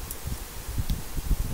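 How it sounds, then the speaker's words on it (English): Wind gusts outdoors, buffeting and rumbling low against the microphone in uneven bursts, with a faint rustle like leaves. "it's really windy out here"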